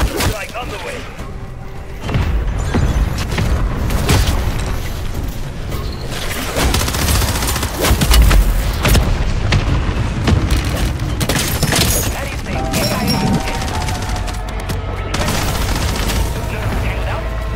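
Mortar strike explosions in the video game MW3 Zombies land as dense, continuous booms and rumbling blasts that stay loud for most of the stretch, mixed with gunfire and game sounds.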